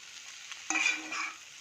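Chicken with soy sauce frying in a pan, a soft, steady sizzle with a louder scrape and clatter of stirring midway, quiet and close with no talking.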